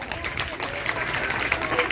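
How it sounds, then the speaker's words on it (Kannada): Loud applause from children and adults at a children's day quiz competition for class 4 and 5 pupils, a dense burst of clapping with voices mixed in throughout. "ಜೋರಾದ ಚಪ್ಪಾಳೆ"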